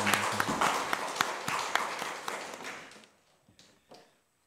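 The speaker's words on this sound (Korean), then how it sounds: "하나님께 영광의 박수 올립니다." A church congregation claps together in a fast, even rhythm during a Sunday morning service, loud at first and then thinning to a few scattered claps before stopping.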